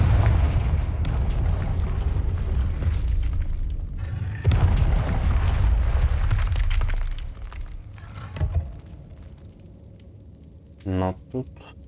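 A blasting-curse explosion in Hogwarts Legacy on PS5 bursts with a loud boom and shattering crash, followed by rumbling debris and scattered impacts that fade, with a brief voice near the end.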